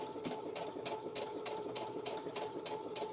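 A sewing machine runs a seam on a girl's dress, its needle clattering in a fast, even rhythm of sharp repeated stitches over a steady motor hum, close and alone.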